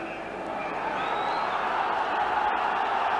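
Large all-ticket football crowd of about 27,000 at a Hearts v Celtic cup tie at Tynecastle stadium, a steady roaring murmur of distant voices and cheering under clear commentary.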